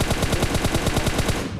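An M416 rifle with a 6x scope fires in a PUBG match: a loud, close, rapid automatic burst of evenly spaced shots that runs steadily without pause.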